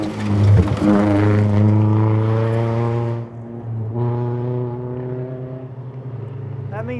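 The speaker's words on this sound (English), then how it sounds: "Oh, do I hear 2 cars?" Two rally cars approach on a forest stage of the 2012 Oregon Trail Rally, their engines a loud droning, strongly harmonic note that dips briefly midway and then returns. Spectators talk quietly underneath.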